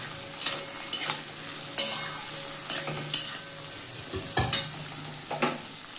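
Red lentils (musur dal) with vegetables and turmeric fry in a pan, giving a steady low sizzle broken by regular scraping strokes of a spoon or spatula, close by, with no talking.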